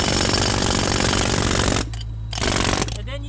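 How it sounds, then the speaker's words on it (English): A jackhammer pounds concrete with loud, rapid, continuous hammering, then cuts out twice for brief pauses before starting up again, close and dominant. "And then you use the jackhammer to pry."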